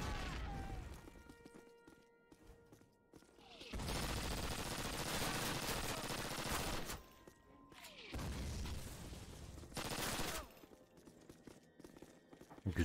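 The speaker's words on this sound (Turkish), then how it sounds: "Böyle güzel tarıyor işte bu silah var ya, acayip bir silah." Rapid bursts of automatic gunfire from a weapon in the shooter game Call of Duty, coming in loud, dense stretches broken by short quieter gaps, with explosive booms mixed into the fray.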